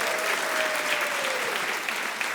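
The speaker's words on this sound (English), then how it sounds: "give them a round of applause" A live studio audience at a comedy show gives a round of applause, a brief wash of many hands clapping at moderate, fairly even volume with no break.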